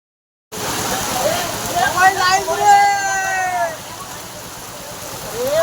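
Floodwater rushes through a market street in Pawas, Ratnagiri, after heavy Konkan rain, a steady broadband wash with voices talking over it.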